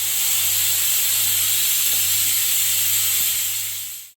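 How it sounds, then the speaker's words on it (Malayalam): A pressure cooker cooking tapioca vents a strong, continuous hiss of steam, loud and close, that holds steady before cutting off abruptly at the end. "കപ്പയുടെ കുക്കർ വിസിലടിച്ചിട്ടുണ്ട്"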